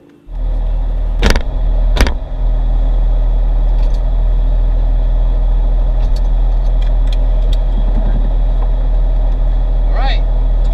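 A Porsche 911 drives down the road with a steady, loud engine and road roar throughout, broken by a couple of sharp knocks near the start.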